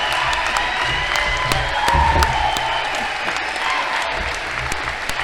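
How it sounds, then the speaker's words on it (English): Loud, sustained applause with cheering and whoops from an outdoor celebration crowd greeting Interior Secretary Deb Haaland at a bison range restoration event, steady dense clapping throughout. "please let us a big round of applause for my hero, Secretary of the Interior,"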